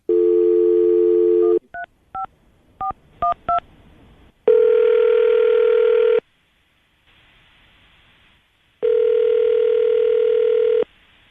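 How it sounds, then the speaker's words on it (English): A burst of telephone dial tone, then a quick run of DTMF keypad beeps, followed by two long ringback tones separated by a quiet pause. "I'm gonna dial the phone number right now."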